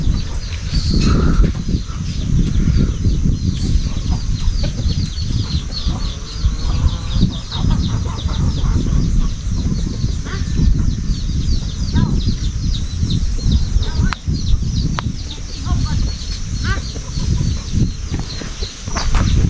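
Chickens cluck and squawk close by in a busy, continuous stream, with scattered rustling and wing flaps throughout.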